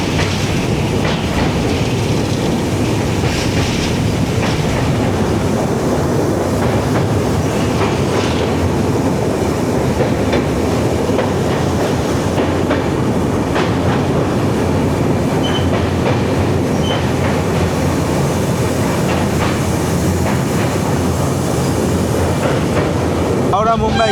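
Howrah–Mumbai Gitanjali Express crossing the Kolaghat bridge over the Rupnarayan river, a loud, continuous rumble and rattle of wheels and carriages that holds steady throughout, with faint voices mixed in.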